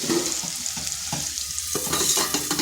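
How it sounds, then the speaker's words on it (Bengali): Potatoes frying in a pan for a vegetarian drumstick-flower dish: a continuous close sizzle broken by several stirring scrapes, loud and steady without speech. "আলুটা একটু ভাজা ভাজা হোক"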